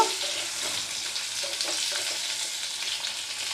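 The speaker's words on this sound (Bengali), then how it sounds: "সব দিয়ে আমি ভেজে নেব। 2-4 বার নেড়ে নেব" Potatoes and pointed gourd fry in a pan over a medium flame, giving a steady close hiss with soft stirring scrapes running through it, and no talking.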